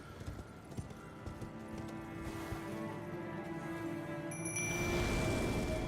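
A horse clip-clops along at a steady gait in Elden Ring, hooves thudding rhythmically and close, with a rising wind-like rush and a bright chime near the end.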